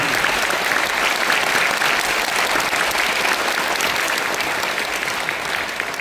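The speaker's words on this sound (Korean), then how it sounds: "모두 뜨거운 박수 부탁드립니다" An audience at a peace music talk concert in a hall claps warmly, dense continuous applause holding steady and then thinning slightly toward the end.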